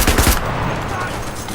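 Rapid machine-gun fire from the battle royale video game Cuisine Royale, a short loud burst of repeated shots at the start that fades into a dense, noisy tail, with faint speech underneath.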